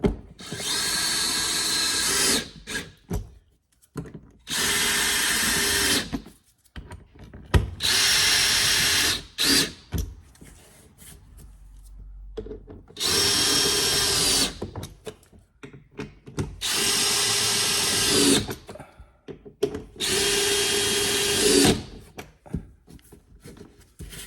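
Power drill driving screws into a Ford Bronco, in six loud bursts of several seconds each separated by short pauses, with light handling clatter between runs and no talking.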